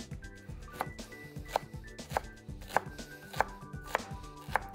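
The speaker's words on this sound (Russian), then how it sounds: "Срежу я его кубичком мелким." A knife dices a fennel bulb into small cubes on a board, sharp regular chops at about two per second with lighter taps between, close and alone.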